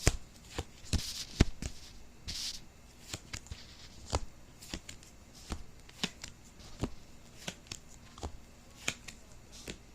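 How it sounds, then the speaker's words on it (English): A deck of oracle cards being shuffled, irregular crisp riffles and soft slaps coming in quick bursts close to the listener, with no talking. "we'll shuffle this one more time and we'll get started"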